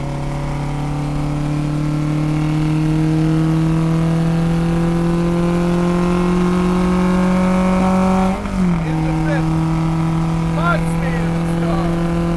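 Alfa Romeo GTA vintage race car engine warming up, a loud steady idle with strong low harmonic tones that rise slowly, then dip and recover in a brief blip near the end.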